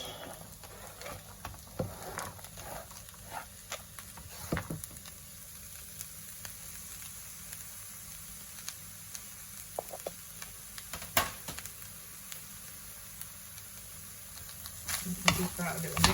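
Vegetables and seasoning frying in a pan for a plant-based chilli, a constant crackling sizzle broken by scattered scraping and clicking stirs, faint and close throughout.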